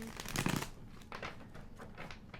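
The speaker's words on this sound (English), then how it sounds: "This deck is really large, so it can be hard to shuffle." A large tarot or oracle deck being shuffled by hand: a soft, papery riffling that runs steadily and quietly throughout, with no voice over it.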